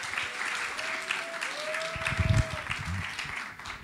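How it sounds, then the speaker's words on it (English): Moderate applause from a youth conference congregation welcoming a pastor, fairly distant and mixed with room noise, a low hum and a brief voice or rumble partway through. "Everybody give a round of applause for Pastor Labby."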